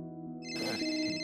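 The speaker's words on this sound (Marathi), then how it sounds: "नंदूचा फोन." A phone ringtone starts up with a bright, sustained electronic tone that swells in loudness over about a second, heard alone and close.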